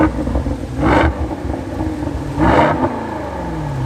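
A Range Rover Sport V8 P530 with a 4.4-litre engine and Quicksilver exhaust revs twice, each blip rising sharply then falling back to a deep, rumbling idle, close and loud.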